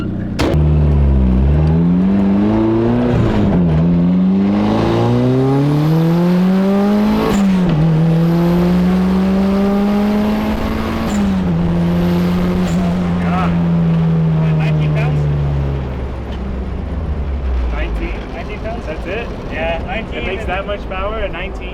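Engine of someone's Mazda Miata revving and pulling through gears during a ride, loud rising and falling tones with several shifts, people talking over it inside the cabin.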